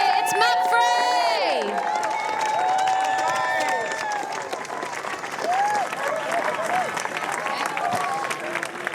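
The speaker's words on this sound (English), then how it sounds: "Give them a final cheer, it's Mapfre!" A large outdoor crowd cheers, whoops and applauds continuously for the Mapfre sailing team at the Volvo Ocean Race dock-out in Newport, with shouting voices rising above dense clapping throughout.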